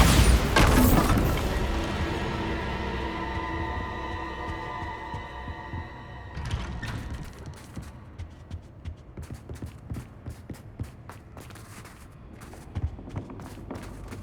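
A Bombarda spell blast in Hogwarts Legacy: a loud, sharp explosion at the start fades into a long, ringing, humming tail, followed by soft footsteps and light thuds.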